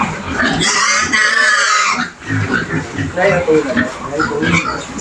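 Pigs grunt and squeal loudly on a farm, a dense overlapping chorus close by, with someone talking over the noise.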